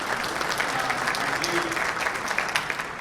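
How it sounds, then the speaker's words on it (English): Audience at a rural broadband conference applauding, a brisk, close crowd of hands clapping with some individual sharp claps standing out, steady throughout. "Let's do another round of applause for Jen and Drew for having us all out."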